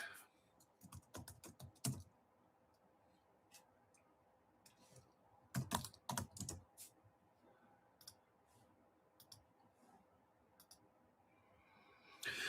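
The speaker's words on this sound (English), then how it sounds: "Let me type it in." A computer keyboard typed on in short, irregular bursts of close, crisp key clicks separated by quiet pauses, with no voice.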